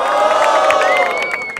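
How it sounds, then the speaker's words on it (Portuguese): A crowd at a Brazilian freestyle rap battle in Barueri cheers and shouts loudly in a dense burst that tapers off after about a second and a half. "Barulho para as rimas de Apolo!"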